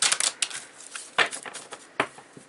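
A tarot card slides off a deck in a few quick papery swishes and flicks, close and fairly crisp, with no talk over them.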